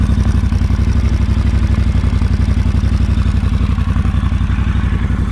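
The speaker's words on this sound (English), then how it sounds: "Let's listen to that exhaust for a moment." A 2019 Triumph Scrambler 1200 XE motorcycle idling through its aftermarket exhaust, a loud, close, steady rhythmic low burble with even pulsing firing beats and no talk.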